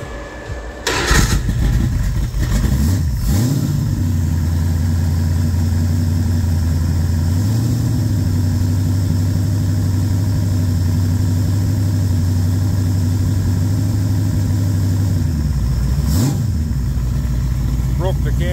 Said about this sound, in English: we'll start this up for Neil so he can hear what it sounds like